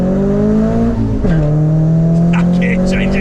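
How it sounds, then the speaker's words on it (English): A Renault Clio 172 hatchback accelerating hard from inside the cabin, with a loud droning engine, a sharp dip and jump in pitch at an aggressive gear change, then a steady pull, and voices chatting faintly at the end. "That gear change is so aggressive."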